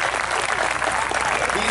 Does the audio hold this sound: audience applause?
yes